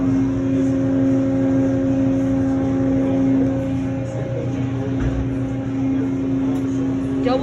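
High-pressure water spray working the undercarriage and wheels of a car inside an automated car wash, a loud, steady roar of machinery and jets with a constant hum running throughout.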